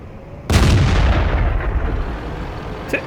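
A tank cannon fires once in a World of Tanks style video game, a sudden heavy boom that rolls out into a long rumbling decay, with a faint sharp click near the end.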